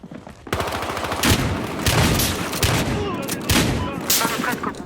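Pump-action shotgun in Battlefield Hardline fired quickly again and again, a dense run of loud, close booming shots in fast succession with brief gaps.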